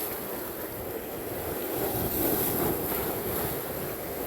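Rough sea waves wash and rumble in a steady, faint wash of water and wind noise at a snapper fishing spot during the habagat monsoon, with no talking.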